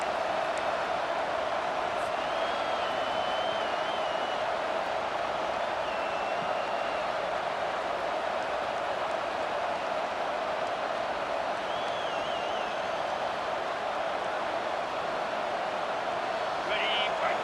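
A football stadium crowd roars steadily as a dense, continuous wash of cheering during a game, with whistles rising above it and a commentator talking over the noise.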